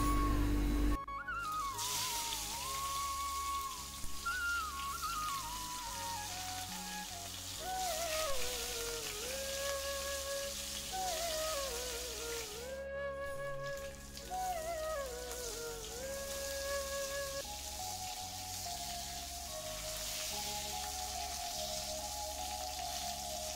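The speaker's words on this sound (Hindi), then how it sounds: "अभी जो बैंगन हमने रखा था वो इस पर फ्राई कर लेते हैं।" Eggplant frying in a wok of mixed mustard oil and olive oil, a steady crackling sizzle running throughout beneath background music.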